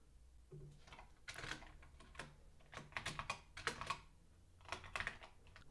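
Computer keyboard typing while coding a React e-commerce app: irregular bursts of quiet, close keystrokes with short pauses between runs, no talking.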